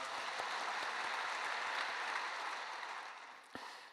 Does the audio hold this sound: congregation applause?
yes